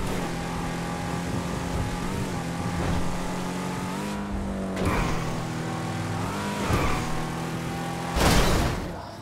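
The Shyster Deviant muscle car drives in Grand Theft Auto 5 with a continuous engine drone that shifts pitch as it accelerates and changes gear, and a louder surge near the end.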